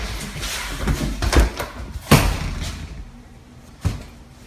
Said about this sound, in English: As he turns back towards the door to the basement, which hangs ajar, it slams shut with great force.